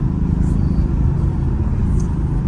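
A Mercedes-AMG GT on the move in Sport Plus mode gives a steady, deep engine and exhaust rumble heard from inside the cabin, constant and fairly loud with no sharp revs.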